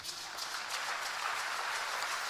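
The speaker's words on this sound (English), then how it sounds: "clap for us" Church audience clapping, a fairly faint but steady wash of applause from a crowd heard at a distance, continuous with no talking over it.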